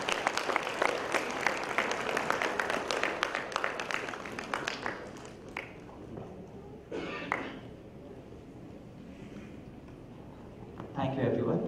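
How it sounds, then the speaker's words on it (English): Audience applause at the grand launch of Iris Florets: dense, fairly quiet clapping for about five seconds that thins out into a hush, with a brief burst of noise near the end. "Please clap a little louder."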